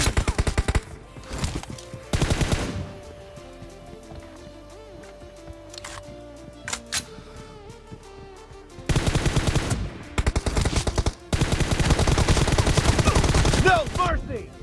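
Loud bursts of rapid automatic gunfire from a team deathmatch shooter game, several long sprays separated by quieter gaps with a few isolated clicks and thuds, close and dominant.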